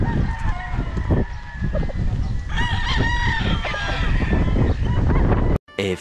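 Roosters crow repeatedly at a gamefowl farm, loud and close with overlapping calls and some clucking, while wind buffets the microphone.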